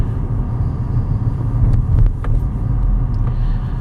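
A 2015 Nissan Rogue AWD SUV drives over uneven road with speed bumps, giving a steady low road rumble and engine hum with a few brief knocks and a slight swell in the middle, no talk.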